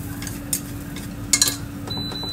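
Garlic frying in olive oil in a cooking pot while being stirred, a soft steady sizzle under a few close scrapes and light clinks of the utensil against the pot.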